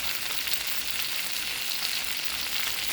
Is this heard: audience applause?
no